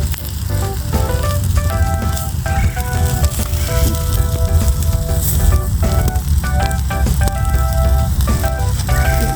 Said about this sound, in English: we're gonna give these a flip for a little bit